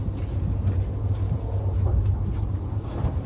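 A high-speed train running between Istanbul and Ankara, heard from inside as a steady, loud low rumble with constant droning hum and faint rattles, no voices.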